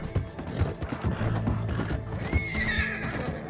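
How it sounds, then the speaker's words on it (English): A horse in the video game Red Dead Redemption 2 whinnies loudly while its hooves clip-clop steadily, close and alone without talk. "This is no place for a horse."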